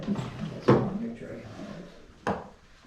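A wooden drawer on an antique piece of furniture in the James Monroe birth house in Virginia is worked open and shut, giving two sharp wooden knocks amid ongoing conversation in the room.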